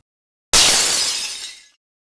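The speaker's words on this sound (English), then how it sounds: "The musket ball smashed through an ornate stained glass window." A musket ball smashes through an ornate stained glass window, a sudden loud shatter of breaking glass that bursts in and then trails off in tinkling debris over about a second, with nothing else heard.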